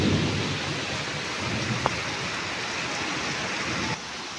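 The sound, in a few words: torrential rain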